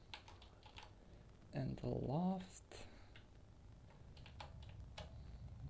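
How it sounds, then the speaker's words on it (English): Clicky keys on a fully mechanical Corsair keyboard are tapped in scattered, quiet bursts of clicks under a man's speech and faint game sound. "I know you can hear my keyboard. It's a fully mechanical Corsair RG something."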